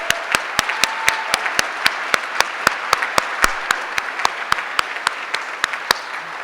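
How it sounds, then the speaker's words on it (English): Steady, evenly spaced claps from a small audience honoring students at a school gathering, each sharp clap standing out clearly over a soft room hush, with no voices, continuing at a regular beat throughout. "let's give these young people a round of applause for their hard work"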